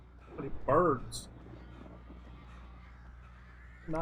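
Harsh crow caws ring out once near the start, a short cluster of calls over low, steady ambience from the video game Alan Wake.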